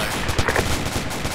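Gunfire during a military section attack exercise, a dense continuous stretch of loud, overlapping shots and reports filling the whole moment with no pause.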